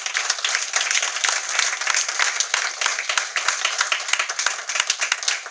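A church congregation applauding during a sermon: dense, sustained clapping from many hands, loud and filling the room throughout, with faint voices mixed in.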